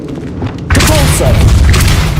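A Repulso spell blast in Hogwarts Legacy lands as a sudden loud boom with a rumbling, whooshing tail that sustains for over a second, following a brief quieter lead-in.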